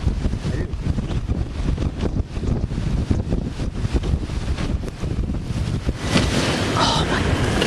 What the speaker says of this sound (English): do I hear more wind?